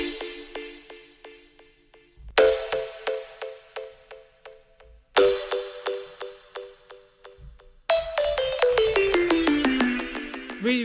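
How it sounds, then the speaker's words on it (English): Super pluck preset from the Vital synth plugin, played as bright, short plucked synth notes in rhythmic bursts, each decaying quickly, with a faster rising run near the end, loud and alone. "My second favorite sound is the super plug, and this is really cool for those modern hip hop beats"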